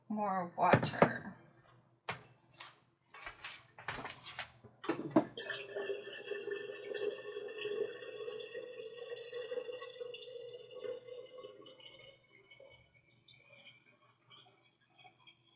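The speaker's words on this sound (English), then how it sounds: "And then we add more water." Water pours steadily into juice bottles after a few clinks and taps of handling, a gurgling stream that runs several seconds and then thins out.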